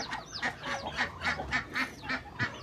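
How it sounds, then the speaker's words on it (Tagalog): Farm chickens clucking and honking in a rhythmic series of about eight loud, close calls, one after another, with no talk over them. "Ika nga, ating mga manok. Ayan, ang sigla nila."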